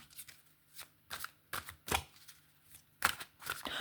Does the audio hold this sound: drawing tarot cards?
yes